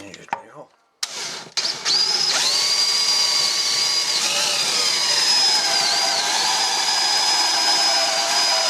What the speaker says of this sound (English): and then you just drill your hole